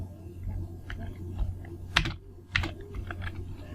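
Java code being typed on a computer keyboard, a sparse run of light keystrokes with two sharper, louder clacks near the middle, close and alone with no talk.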